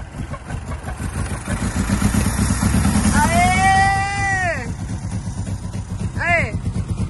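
A Chevrolet Chevette engine sputters into life on alcohol fuel and runs with a rough, uneven rumble while people talk and shout excitedly over it nearby.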